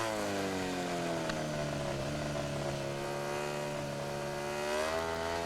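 A Ducati motorcycle engine in the video game MotoGP 17 wails steadily at high revs, with its pitch gently rising and falling as the bike runs a wet race, continuous and fairly close.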